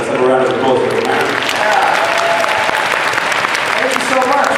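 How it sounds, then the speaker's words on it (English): Sustained audience applause fills a convention hall at a fan event with two actors on stage, a dense, steady roar of clapping that holds at full strength throughout. "Let's have a round of applause for the marathon"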